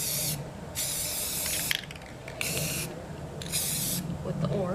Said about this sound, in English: So I'm gonna finish spray painting all of these